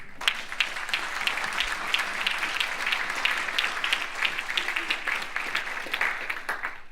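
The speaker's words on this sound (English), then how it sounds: "Now we can applaud, do a temporary applaud here." Steady audience applause at a congressional district primary debate, many hands clapping continuously and evenly at moderate loudness throughout, with no voices standing out.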